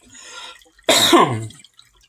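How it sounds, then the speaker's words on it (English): A single harsh cough close to the mic, preceded by a soft breathy sound, then quiet. "Excuse me, I have to cough."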